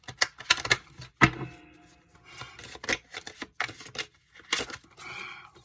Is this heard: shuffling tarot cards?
yes